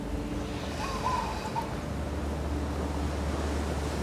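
Ocean waves wash softly in a calm, faint surf bed with light wind, a brief higher chirp near the start, and a low steady rumble continuing underneath.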